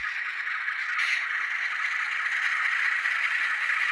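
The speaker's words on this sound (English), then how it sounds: "And you hear the wheels are spinning, but the engine isn't moving." Wheels of an N scale Atlas Dash 8 model locomotive, gold Amtrak livery, spin in place without moving, giving a steady, fairly loud whirring hiss that holds unbroken throughout with no talk.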